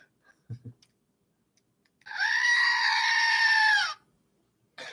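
A single drawn-out bleat rings out for about two seconds after a few soft clicks, fairly close and alone in an otherwise quiet setting.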